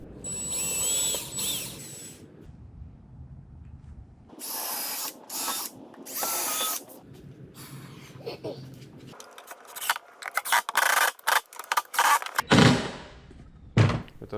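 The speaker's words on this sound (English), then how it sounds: "This time I had to drill through the base of the boat." Short bursts of drilling through a 12-foot boat's base and ratcheting tool noise, stopping and starting irregularly with quiet gaps and clunks between them.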